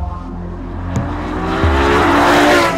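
Ferrari LaFerrari hybrid supercar engine, loud and close, rising steadily in pitch as it accelerates with two brief gear-change dips, no talk.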